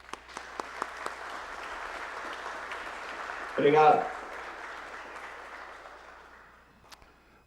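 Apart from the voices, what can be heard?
audience applause after a panel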